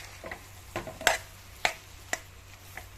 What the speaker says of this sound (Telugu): బాగా తిప్పాలి.